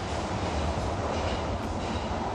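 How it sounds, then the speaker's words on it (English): Metro train rumbling through a station, a loud dense roar of wheels and rails with a steady broadband wash, close by and unbroken for the whole stretch. "It's a metro, is that mine? No, surely not. I'm waiting for the metro."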